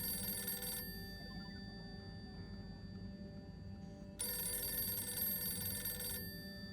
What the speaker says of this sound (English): I'm not gonna answer it. It's not my phone.